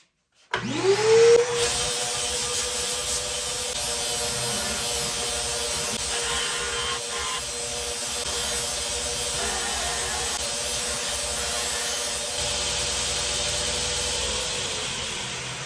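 A loud, steady grinding whine starts abruptly and holds, a belt grinder profile-grinding a mosaic canister Damascus steel knife blade with a harsh, continuous roar.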